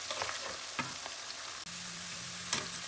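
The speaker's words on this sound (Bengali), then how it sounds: "ওই তেলের মধ্যেই পেঁয়াজটা আমি একদম বেরেস্তার মতো করে লাল লাল করে ভেজে নেব।" Onions fry in oil already used for potatoes while a biryani with hand-ground spices is prepared, with a steady close sizzle and a few stirring clinks.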